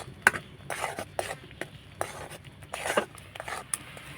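Semolina being stirred continuously in a pan as it thickens into a dough, with soft irregular scraping and stirring strokes close by, some sharper clicks, and no talk.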